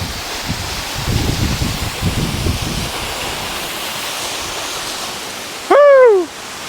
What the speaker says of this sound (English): Check it out, falling water.